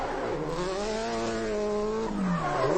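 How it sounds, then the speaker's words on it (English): Ken Block's Ford Focus rally car lights up its tires, a loud sustained engine roar that rises and falls in pitch as the revs climb and dip. "Just lighting up the tires. Ken Block doing his thing."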